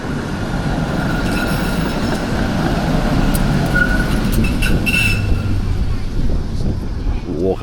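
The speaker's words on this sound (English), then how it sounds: "once this tram goes past, we'll just" A tram rumbles past close by in Poznań, Poland, with a loud continuous low roar and faint squeals from the wheels, street noise around it.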